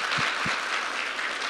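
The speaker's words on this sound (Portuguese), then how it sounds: "a salva de palmas para vocês." Audience applause at a crowded indoor event, a dense, continuous wash of many hands clapping at moderate distance, steady throughout with a couple of low thumps near the start.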